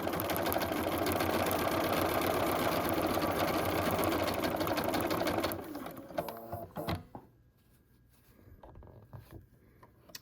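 A sewing machine stitches a curve on a fabric bag in a steady, close, fast whir for about five seconds, then stops, leaving faint handling and fabric rustles.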